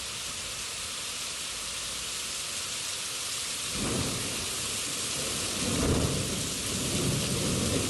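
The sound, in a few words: rain pouring onto a building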